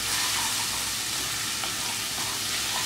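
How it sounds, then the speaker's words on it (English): Ginger pieces sautéing in hot oil for paneer jalfrezi, a dense continuous sizzle and crackle at close range, steady throughout with no voices. "So let it saute until it separates from oil"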